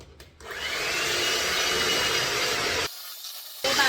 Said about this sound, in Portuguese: Mas eu vou bater isso aqui, esse ovo, até ele ficar bem maior, até ele aumentar bastante de tamanho.